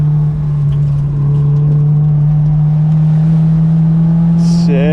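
A car races along a winding dirt road with a loud, steady engine hum right up close, a droning tone that holds for the full stretch and rises sharply at the very end.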